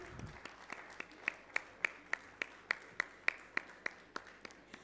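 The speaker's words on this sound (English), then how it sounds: "so a big round of applause for Rajasthan. Let the applause keep coming." Sparse rhythmic clapping at a national mining ministers' conference, about a dozen evenly spaced claps over a soft room background, fairly faint and distant.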